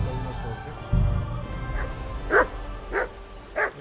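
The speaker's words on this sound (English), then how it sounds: "Whistle at that mutt of yours to stop barking!" A dog barks four times in Kingdom Come Deliverance 2, sharp single barks spaced roughly half a second apart at moderate distance, following a low rumbling game background with faint voices.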